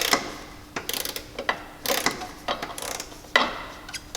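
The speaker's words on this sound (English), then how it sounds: "I'm going to pinch that with my finger so it doesn't move, and I'm going to start ratcheting" A ratchet tightens a hood latch on a Jeep Wrangler JK, giving close, crisp clicking in short irregular bursts with brief pauses between strokes and light metallic handling.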